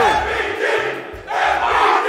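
Crowd at a Super Smash Bros. Ultimate tournament winners final, Ness versus Snake, roaring and cheering loudly throughout with a brief dip in the middle before surging again.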